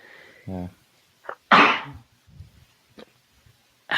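A single sharp sneeze bursts out near the microphone, followed by a brief spoken word and quiet murmurs.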